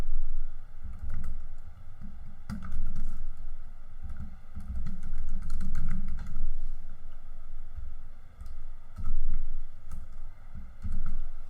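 Typing on a computer keyboard while entering a JavaScript command produces irregular bursts of soft clicking keystrokes with brief pauses, close by over a faint steady background hum.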